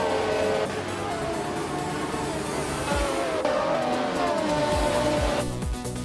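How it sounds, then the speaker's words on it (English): The engine of a Matra MS 120B, a French prototype racing car, roars in a racing video game, holding a loud, steady high-revving drone with several cars whooshing past up close. "Pippi Langstrumpf is driving a Matra MS 120B, which is a French prototype racing car"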